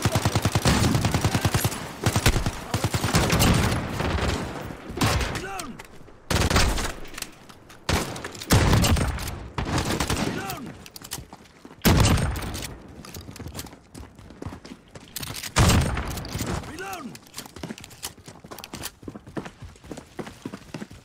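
Gunfire in the video game Call of Duty, loud rapid bursts of automatic fire in several clustered volleys with short gaps between, close and dominant, a few scattered single shots near the end.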